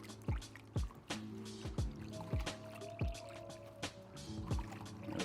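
A dirt bike air filter being flushed in a basin of warm, clear water, with repeated sloshing splashes and dunks at an irregular rhythm, close by and fairly quiet.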